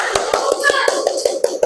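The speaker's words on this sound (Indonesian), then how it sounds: "Boleh tepuk tangan buat kelompok 3." Children in a classroom clap their hands in a steady, evenly spaced rhythm of about ten sharp claps, close and clear, with faint chatter in the background.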